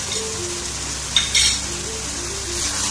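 Whole spices, dry coriander and black peppercorns, sizzle steadily in hot oil in a pan for mutton karahi, with a couple of brief metallic clinks of a stirring spoon midway.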